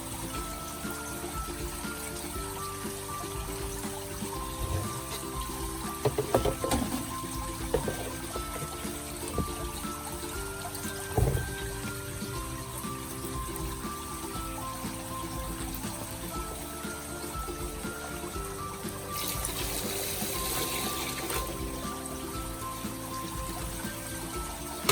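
Water trickling and pouring steadily into a crab container on a vertical crab farm, a continuous close splashing stream with a few louder clunks and a brief brighter gush near the end, no talk.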